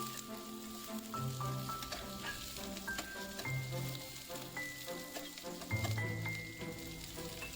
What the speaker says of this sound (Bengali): ক্যাপসিকাম ও পেঁয়াজটিকে ঘিয়ের মধ্যে ভালো করে নেড়েচেড়ে ভাজা ভাজা করে নিতে হবে